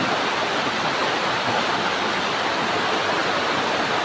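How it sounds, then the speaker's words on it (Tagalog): Heavy rain pours steadily in a backyard where chickens are kept, a dense, continuous hiss with no breaks, close and loud throughout. "Today sobrang ulan na naman."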